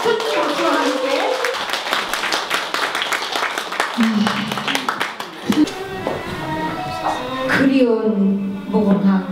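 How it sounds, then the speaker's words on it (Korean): An audience claps to open a poetry recital at a museum, with crisp, close handclaps for several seconds before they give way to speech and a sung or musical passage. "큰 박수와 함께."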